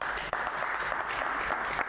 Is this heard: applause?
yes